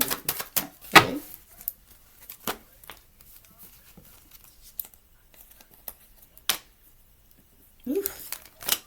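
Tarot cards are shuffled in quick bursts, with sharp riffling slaps and papery flutters spread across the stretch and a longer shuffle near the end, close and fairly quiet with no talk.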